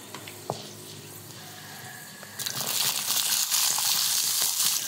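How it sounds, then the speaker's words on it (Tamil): Small shallots frying in a little hot oil with fenugreek seeds for keerai kulambu, a steady broadband sizzle that swells louder midway and keeps crackling close by, with no talk. "வெங்காயம் வதங்கட்டும்"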